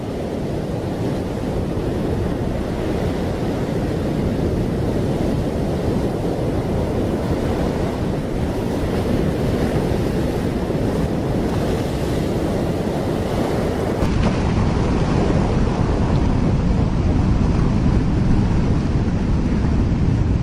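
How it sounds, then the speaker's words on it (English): Heavy rushing ocean water and surf roar continuously at high level, a dense, wind-blown wash with no voices, presented as water surging toward the equator. "a little video I did to show what it might look like on this ball Earth as all the water rushes to the equator"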